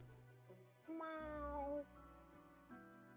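A cat meows once in a video game, a clear rising-and-falling cry in the middle over quiet low background tones, with a short fainter sound near the end.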